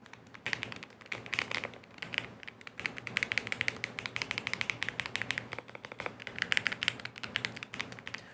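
Fast typing on a Lofree Flow 100 mechanical keyboard with linear switches up close, a dense run of deep, clacky thocking keystrokes with uneven rhythm and occasional louder hits, no voices.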